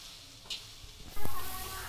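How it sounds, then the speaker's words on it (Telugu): Sliced bitter gourd frying in oil in a pan while being stirred, a soft continuous sizzle with a clink near the start and a louder scraping surge partway through, close up and without talk. "ఫ్రై చేసేటప్పుడు వీటిని బాగా కలుపుతూనే ఉండాలండి."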